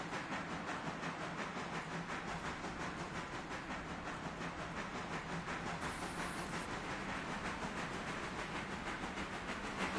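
Steam locomotive in the game Railroader pulling away with the throttle open, a dense continuous chuffing and rolling rumble with rhythmic pulses and hiss, loud and steady with no talk.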